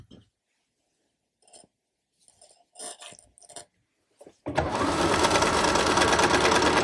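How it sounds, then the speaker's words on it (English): After a few soft handling taps and rustles, a sewing machine starts up close and runs steadily, stitching through four layers of a mock bag with a loud continuous whir. "What I'm going to do is I'm going to take it to my machine. I am going to sew all 4 layers together."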